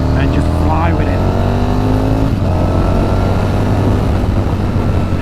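An Aprilia Falco motorcycle accelerates hard on a road in Derbyshire, its engine note loud and continuous, climbing in pitch through the gears and then settling into a steady roar with heavy wind noise.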